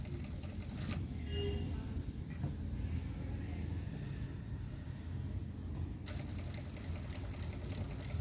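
Sewing machine running steadily while stitching over large hook stitches, a continuous mechanical whir with a slight pause midway, close and fairly loud throughout.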